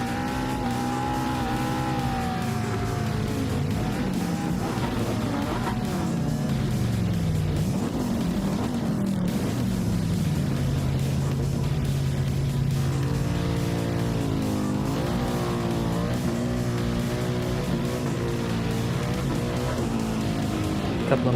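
Mercedes and McLaren race cars in Gran Turismo 7 rev and accelerate on the Interlagos circuit, engine tones rising and falling through gear changes, continuous and fairly loud with no talk.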